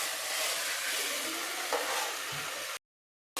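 A ground paste of green chili, ginger, garlic and coriander frying with onion in hot oil, a dense, steady sizzle that runs unbroken and close, then cuts off abruptly into silence near the end.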